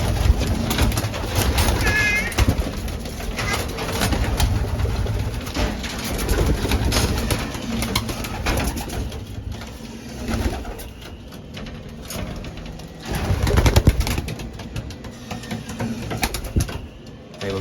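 Racing pigeons cooing steadily in a loft as young birds are readied for a training toss, soft throaty coos repeating close by over a dense, rumbling background with occasional other bird calls.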